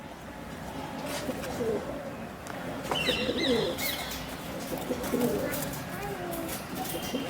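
Pigeons coo softly in the background amid steady ambient noise, with a few brief chirps and some indistinct voices nearby.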